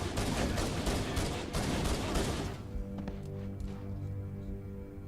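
Soldiers fire rapid automatic gunfire in the video game Halo CE, a loud dense burst of shots that drops away midway to quieter scattered game sounds and a low hum.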